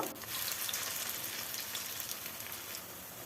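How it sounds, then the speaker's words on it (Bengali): Pakoras of banana flower and masoor lentils fry in a little oil in a kadai with a soft, continuous hiss and fine crackle, fairly quiet and steady, with no voices. "কড়াইতে অল্প তেল দিয়ে আমি মুচমুচে করে ভেজে নেব"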